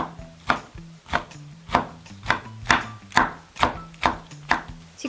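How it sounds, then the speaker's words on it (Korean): Knife chops scallions and other vegetables on a cutting board for Korean acorn jelly salad, with about ten crisp, evenly spaced chops in steady rhythm, close and clear with nothing else heard. "쪽파를 썰어주세요. 대파를 얇게 썰어도 괜찮아요."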